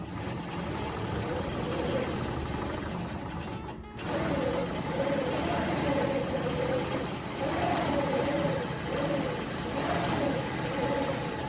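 A Nolting longarm quilting machine stitches across a quilt with a steady, continuous mechanical whir and hum, close and unbroken apart from a brief dip, with voices in the background.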